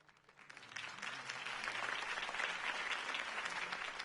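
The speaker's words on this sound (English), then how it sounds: "If only Mr. Wayne, my campaign's largest backer, could have heard that applause" Crowd applause following a campaign speech in the Batman Telltale video game, a steady roar of clapping that swells after the first second and holds loud and dense to the end.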